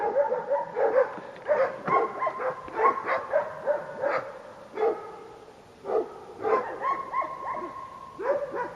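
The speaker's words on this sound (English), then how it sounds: "And when you stop, every dog will bark." Several dogs bark in repeated bursts at a cyclist who has stopped on a road in Montenegro's Tara Gorge, with yips and overlapping barks from close by and a brief lull midway.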